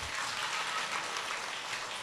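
Audience applause at a Buddhist sermon, a steady, dense patter of many hands clapping evenly and continuously from moderate distance, with no voices over it.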